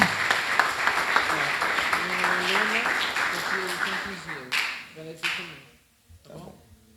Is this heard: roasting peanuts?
no